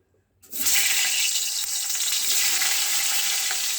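Pointed gourd (potol) pieces rubbed with salt and turmeric dropped into hot mustard oil, bursting into a loud, close, steady sizzle after a brief quiet start and holding without pause.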